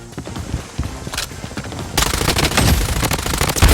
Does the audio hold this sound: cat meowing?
no